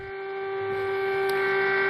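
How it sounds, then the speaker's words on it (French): Civil defense sirens sounding in tribute, a steady sustained wail that slowly swells in loudness over a low background hum, with no voices. "vous entendez ces sirènes qui ont résonné pour rendre hommage aux 3300"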